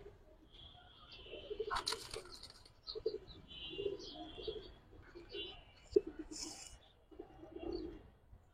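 Indian Giribaz pigeons with red tails coo softly and repeatedly at close range, with a brief burst of wing flapping, while people talk faintly nearby.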